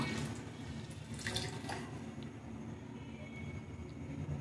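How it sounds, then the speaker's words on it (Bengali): Water pours into a pot of rice, a steady low splashing and gurgling that runs close and continuous with no voices over it. "দেখুন আরও জল দিয়ে দিচ্ছি"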